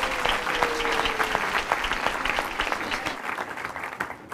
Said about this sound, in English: I think we should give our George Choir another special round of applause.